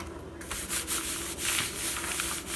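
Crinkly paper edges on a junk journal cover are rubbed by hand, giving close, uneven bursts of dry scratchy rustling in irregular strokes.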